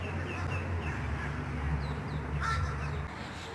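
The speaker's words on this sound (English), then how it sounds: "These are actually Amazon parrots." Several raspy, squawking Amazon parrot calls sound over a steady low hum, a few sharp shrieks rising above the background.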